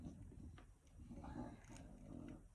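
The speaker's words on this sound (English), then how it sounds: "That's the dog in the background" An English bulldog makes low, rough snuffling and grunting noises while asleep, a steady close rumble that rises and falls throughout.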